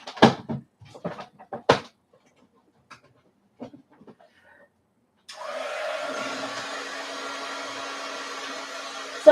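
A hair dryer blows on wet gelli print bookmarks, switching on after a few scattered clunks and handling noises and then running as a steady, close whooshing whir to the end.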